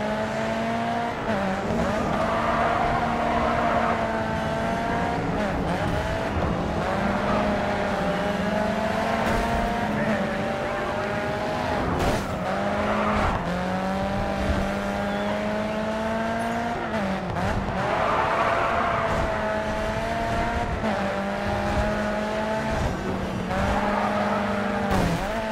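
Race cars roaring around a circuit in the video game Grid 2, with loud engines rising and falling through gear shifts and tires squealing repeatedly in corners, all continuous and close.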